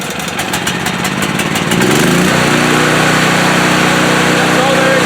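A portable generator for powering a house, with its choke on, catches and settles into a loud, steady running drone after a short stretch of uneven cranking and sputtering.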